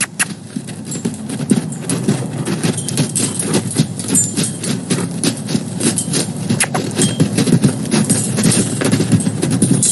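A horse lopes around a training pen at Dunrovin Ranch, its hooves beating a steady, loud rhythmic clip-clop on the ground throughout, with no voices.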